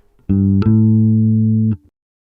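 Two sustained bass guitar notes, G then A, the first short and the second held longer, played clean and alone with a soft plucked attack on each.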